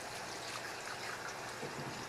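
Tap water runs into a pot in a home kitchen, a soft, continuous splashing trickle, fairly quiet and steady with no voices.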